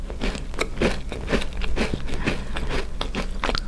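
Biting into a crunchy, salty baked cookie up close, with a rapid series of crisp crunches and crackles as it is bitten and chewed.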